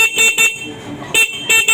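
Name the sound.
e-bike horn honking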